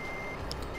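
Reversing beeps from a truck in Euro Truck Simulator 2, a short high electronic beep pattern over a steady engine drone.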